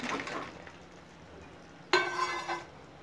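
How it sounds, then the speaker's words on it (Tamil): Mushrooms tip into a pan of masala sauce with a sudden clattering splash, followed by a stretch of scraping and stirring against the metal before it settles. "காளானை உள்ளே சேர்த்துடலாம்."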